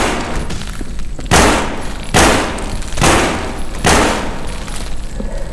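Gunfire in the zombie shooter No More Room In Hell: four loud, evenly spaced shots about a second apart, each with a short, broad blast and decay, over steady game ambience.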